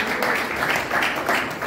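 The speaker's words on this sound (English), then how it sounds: "Will you please continue the applause?" An audience at the CAMCAN 2021 annual workshop applauds after a speech, a loud, full spread of clapping with gentle swells, close and without talk.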